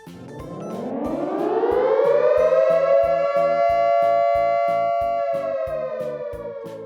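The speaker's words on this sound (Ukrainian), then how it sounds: "Це сигнал повітряної тривоги." A loud air raid siren winds up from a low pitch to a sustained wail, holding steady and loud for several seconds.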